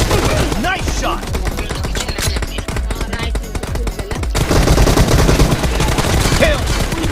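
Rapid gunfire from an S12K shotgun and M4 rifle in a PUBG Mobile team deathmatch, dense loud bursts of shots running almost continuously over game music and effects.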